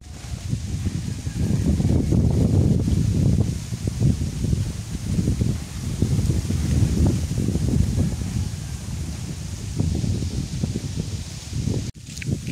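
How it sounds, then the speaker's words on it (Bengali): A breeze blows through leaves in a village, a loud, continuous rustling rush that swells and eases in gusts, with no talking. "কত সুন্দর বাতাস।"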